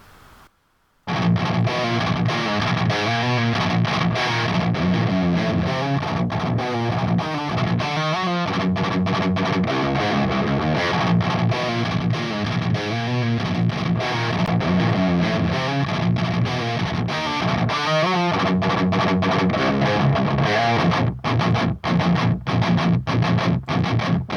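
Heavy distorted electric guitar through an Audio Assault Bulldog Super Lead amp simulator, playing chugging metal riffs with sharp stops, loud and continuous, no voices.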